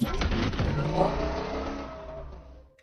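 A high-tech electric car surges forward in a film scene, a loud whirring, revving rush that fades out over a few seconds.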